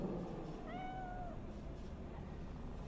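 A single drawn-out meow from a cat in Cyberpunk 2077, clear and fairly close, rising then falling over a steady low background hum of the game world.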